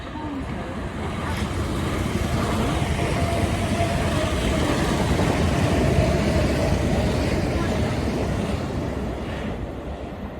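A train at Queenstown Road Battersea station runs through without stopping, a steady broad rumble that swells gently and holds loud and close for the whole stretch, with no voices over it.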